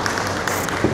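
A seminar audience applauds as a speaker is welcomed onto the stage at an HR talk, a dense, steady wash of many hands clapping for a short moment.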